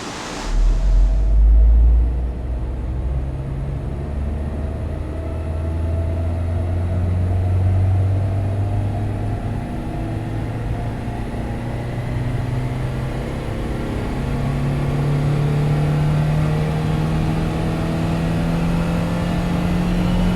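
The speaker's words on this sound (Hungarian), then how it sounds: "nézzük meg, hogy a 75 lóerős motor mit tud itt a teljesítménymérőpadon" An Opel Astra police car with a 75 hp engine runs on a dynamometer, a loud continuous engine roar that starts with a burst and then climbs slowly in pitch as it pulls through the gears.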